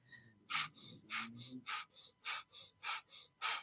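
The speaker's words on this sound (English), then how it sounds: "Breath of fire or master breath is an advanced breath practice" Breath of fire, a kundalini breathing exercise, sounds as rapid, evenly paced forceful breaths, about ten sharp puffs in steady rhythm, close and clear with a faint voice underneath at the start.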